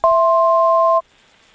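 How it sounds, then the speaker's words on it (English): A small training aircraft's avionics sound an altitude alert while climbing near San Francisco, a single loud steady two-pitch electronic tone lasting about one second before cutting off over faint cockpit hum. "As we climb through 400 feet AGL, we're going to hear a tone."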